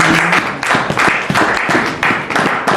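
A church congregation applauding the Lord, loud rhythmic clapping in repeated bursts filling a large hall, close and sustained throughout.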